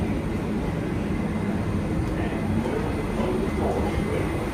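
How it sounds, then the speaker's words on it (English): Manhattan-bound 7 local subway train in New York City, a loud continuous rumble and roar of the moving car with steady rail noise and a high whine. "This is a Manhattanbound 7 local train."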